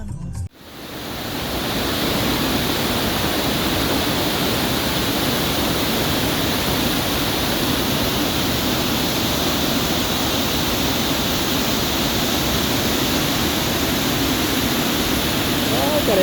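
Steady, loud rush of a mountain waterfall pouring over rocks in Yumthang Valley, Lachung, a dense continuous roar with no pauses, close by.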